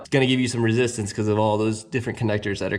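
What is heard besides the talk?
No everyday noise stands out behind the speech.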